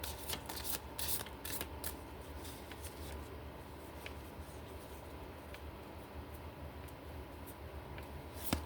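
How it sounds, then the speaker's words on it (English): A deck of oracle cards is shuffled close up in a continuous, soft riffling patter, with brighter flicks near the start, then a steady faint rustle that runs throughout. "we're going to be pulling from the sassy cards"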